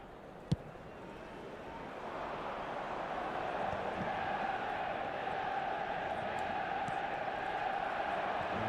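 Stadium crowd in an eFootball video game match, a wide continuous roar that builds after a sharp thud near the start and holds steady, with no clear talk.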